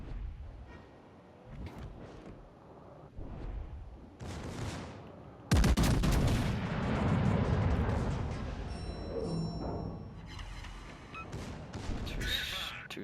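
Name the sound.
continuous artillery barrage, from a video game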